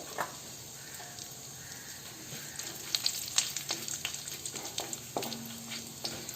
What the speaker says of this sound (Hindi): तब यह कढ़ाई में तेल गरमे छै, तब एहिमे हम फोरन डाल देबै।